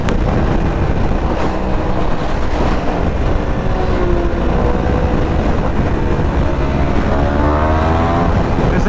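A Yamaha R1M sport motorcycle races at high speed through tunnels, its engine a loud continuous roar blended with heavy wind rush, rising in pitch near the end as it pulls harder.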